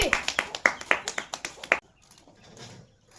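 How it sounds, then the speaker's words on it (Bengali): A group of people clap their hands together in a rhythmic burst of about a dozen sharp claps at a children's prize game, stopping abruptly, followed by quiet room noise. "সবাই একটা হাততালি।"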